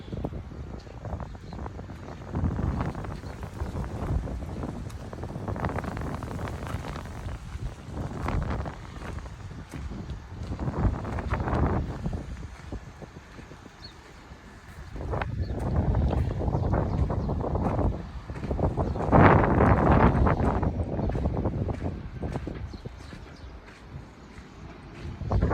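Wind buffeting a microphone at an ancient city site on the Mediterranean, gusty low rumbling that swells and fades in uneven surges, loudest in the later half.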